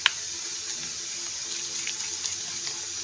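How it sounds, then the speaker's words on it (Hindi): Water splashes and runs steadily from a tap into flour for namak pare dough, a constant hiss with faint small splashes, close and continuous. "पानी और डलेगा इसमें"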